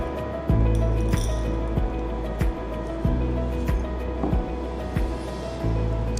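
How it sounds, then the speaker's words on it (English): A mixture of sand, common salt and ammonium chloride is poured into a glass beaker. Close, grainy pouring and scraping sounds are broken by repeated light glass clinks at a fairly regular pace. "I am adding this mixture in the beaker."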